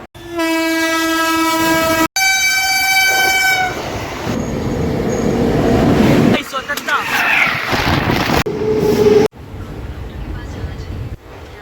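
A New Delhi to Saharsa special train rolls along with a steady loud rumble of wheels and carriages; a long horn blast sounds near the start, then the clatter continues with shifting rattles and a sudden drop in level toward the end.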